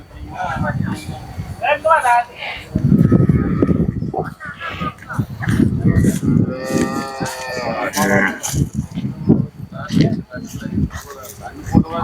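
Cattle at Kannapuram cattle market moo loudly and repeatedly close by, drawn-out calls standing out over a busy crowd, with people talking and shouting throughout.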